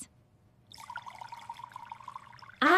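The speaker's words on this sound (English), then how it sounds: "I pour some juice." Juice poured into a glass at home gives a steady trickling, bubbly stream lasting about two seconds, soft and close, then ends in a brief louder clatter.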